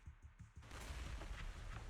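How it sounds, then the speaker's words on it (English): In the video game Zenless Zone Zero, explosions go off, a few muffled thumps that swell into a dense, continuous rumbling roar, fairly faint and with no talking. "several explosions erupt, followed by tremors in the ground"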